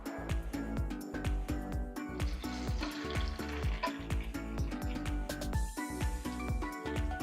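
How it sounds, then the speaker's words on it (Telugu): Bitter gourd pieces fry in a spoonful of oil in a pan, with a steady close sizzle and crackle throughout, under a repeating background beat of music. "మళ్ళీ అదే ప్యాన్లోకి 1 స్పూన్ ఆయిల్ తీసుకోవాలి. ఇప్పుడు మళ్ళీ కాకరకాయ ముక్కల్ని వేయించుకోవాలి."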